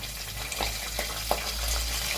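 Curry leaves go into onions browning in oil in a pan, giving a soft, steady sizzle with a few brief crackles and pops, fairly quiet and without talk.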